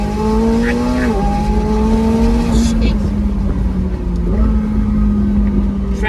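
A 2024 McLaren 750S Spider sports car accelerating hard, its engine note loud and close as it climbs steadily through the revs, with quick gear changes dropping the pitch before it rises again.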